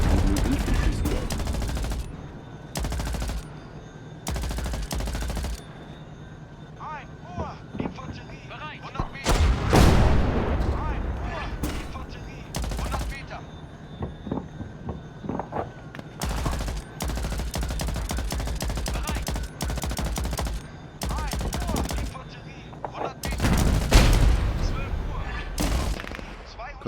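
Machine gun and tank cannon fire in the Tank Squad video game, with bursts of automatic gunfire and heavy booming shots recurring through the clip, loud and close, under a game tutorial voice.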